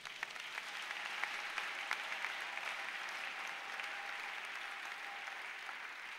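A church congregation claps to acclaim Jesus during a sermon. The applause is a steady, continuous patter of many hands, heard at a soft, slightly distant level throughout.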